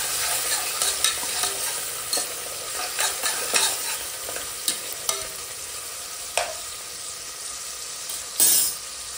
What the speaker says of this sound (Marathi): आता टोमॅटो आणि लसूण पण आपण ॲड करू, त्याला पण 2 मिनिट फ्राय करून घ्यायचं